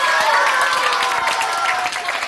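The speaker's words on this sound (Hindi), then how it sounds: "इन दोनों तरफ से तालियां जोरदार आनी चाहिए" Studio audience on a Sindhi TV game show applauds loudly and steadily, the clapping thick and continuous throughout with a faint tonal layer running beneath it.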